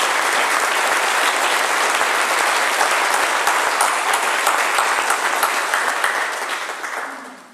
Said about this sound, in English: give a big round of applause for our outgoing Chancellor, Frank Clark, as well as our incoming Chancellor, Ron Spears